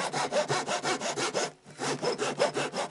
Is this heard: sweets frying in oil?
no